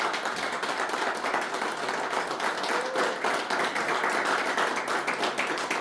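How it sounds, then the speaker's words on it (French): An audience applauding hotel hosts at an awards event in Strasbourg, a steady, moderately loud wash of clapping from many hands that holds throughout. "les applaudir bien fort"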